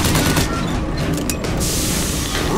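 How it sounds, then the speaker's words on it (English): Rapid bursts of gunfire from a weapon in the video game Bioshock Infinite, loud and dense, crackling almost continuously without a break. "Let me get a few more shots off of this."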